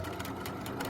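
A sewing machine runs in reverse, back-stitching through fabric, a brief, quiet, steady whirring hum with no talking.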